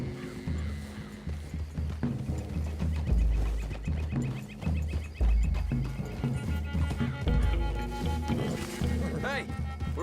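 Horses whinny and snort in Red Dead Redemption 2, with hoof clops in a wooded clearing amid game music, while characters talk over them.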